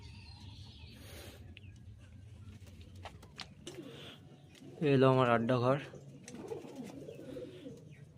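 Pigeons in a loft, one close, loud burst of throaty cooing rising above low ambient noise while someone talks nearby.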